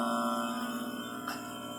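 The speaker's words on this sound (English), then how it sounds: "Old Freon vacuum pump." An old Freon vacuum pump hums steadily nearby, a continuous tonal motor drone that stays constant with a slight dip in level.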